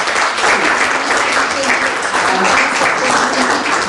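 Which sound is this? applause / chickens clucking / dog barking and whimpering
applause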